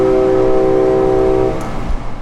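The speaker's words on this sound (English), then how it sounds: "Engineer Myers gives 2 big honks on the horn, the traditional signal for "we're moving again," and they slowly pull away." A passenger train horn at Winter Haven station sounds a loud, sustained blast up close, then cuts off, leaving a low rumbling idle.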